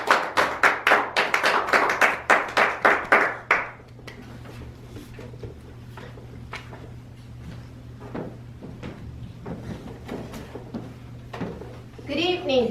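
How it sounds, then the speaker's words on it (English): A small group at a Toastmasters club meeting gives a round of applause: about three seconds of loud, rhythmic clapping, then a few scattered faint claps and taps over a low hum before a voice begins speaking. "Let us please give a warm round of applause"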